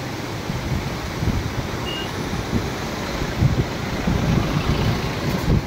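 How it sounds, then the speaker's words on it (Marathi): The Manjara river runs in full flood beside the Latur–Ambajogai road, a steady broad rushing roar of water with wind noise, moderately loud and continuous. "मांजरा नदीचे हे पात्र दुतडी भरून वाहताना आपण या ठिकाणी पाहताय"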